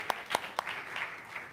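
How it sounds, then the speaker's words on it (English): A few people in a church congregation clap: three sharp claps, then a quieter, scattered patter that fades out quickly. "Y'all want to give her another round of applause?"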